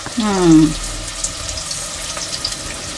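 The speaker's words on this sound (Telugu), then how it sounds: "మనం కాకరకాయలే బాగా వేయించాలి కదా, ఉడకాలి కదమ్మా." Bitter gourd fries in oil in a clay pot for a tamarind stew, giving a faint, sparse crackle and sizzle after a brief voice-like sound at the start.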